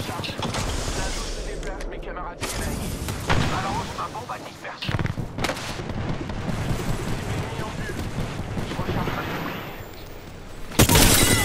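Apex Legends gunfire in a heavy firefight, dense bursts of shots and booming impacts running throughout with a loud blast near the end, while a player talks over the action.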